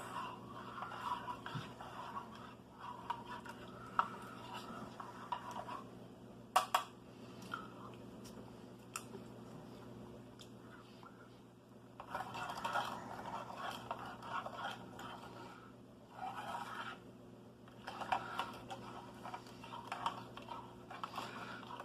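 A lemon lime drink mix from an MRE cold weather menu being stirred in its pouch, heard as soft, close scraping and rustling in uneven bursts with short pauses, faint and without any talking.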